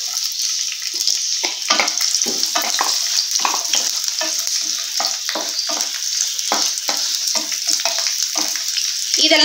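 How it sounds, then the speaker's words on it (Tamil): Shallots, garlic and dried red chillies frying in hot oil, a loud, steady close sizzle with repeated scraping stirs throughout. "மூணையும் சேர்த்து அப்படியே இந்த எண்ணெயில போடுங்க"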